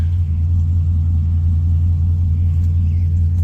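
A truck engine idles steadily with a loud, close, deep rumble, even and unbroken throughout, with no voices.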